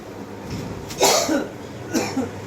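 Two short coughs, spaced about a second apart, close and fairly loud over a quiet room.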